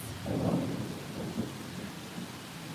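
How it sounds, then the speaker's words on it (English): Heavy rain pours during a thunderstorm, with a low rumble of thunder swelling early and then fading under the steady hiss of the downpour, heard from indoors. "the rain is falling so hard"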